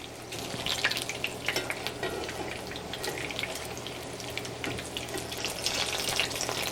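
Shredded beef tacos frying in hot oil, a steady close crackle and sizzle running throughout with scattered louder pops.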